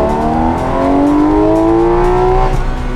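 A Porsche GT3 RS pulling hard in second gear, its engine note climbing steadily in a loud, high-revving wail with raspy exhaust, heard close and alone.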